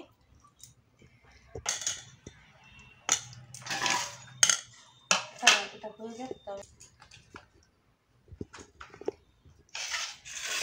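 Food being served onto plates at home, with dishes, pots and cutlery clinking in scattered bursts, under intermittent talk nearby.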